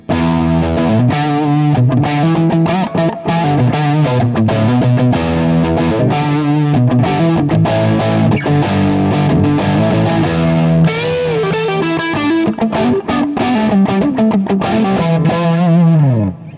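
Heavily distorted electric guitar through a 4x12 Rectifier cabinet, close-miked, chugging and ringing chords, loud and steady throughout, with no voices, ending as the notes fade.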